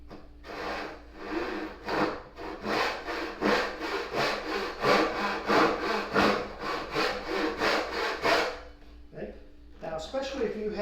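A hand saw's coarse rip teeth cut through wood in about twenty quick, even back-and-forth rasping strokes, loud and close, before the sawing stops near the end.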